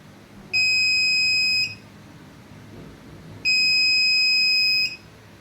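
An electronic buzzer in a student sensor project sounds when an object is detected in front of the sensor. It gives two loud, steady beeps of about a second each, separated by a short pause, over faint background hum.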